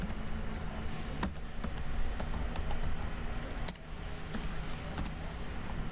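Keystrokes on a computer keyboard while entering commands in Ubuntu, sparse sharp clicks spaced irregularly over a low steady background hum, close and fairly quiet.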